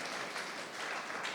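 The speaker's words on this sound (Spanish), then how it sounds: "Dale un fuerte aplauso al Rey de Reyes, Señor de Señores." A church congregation applauds during a worship service, a dense, steady wash of many hands clapping at once, fairly loud and continuous throughout, with no speech over it.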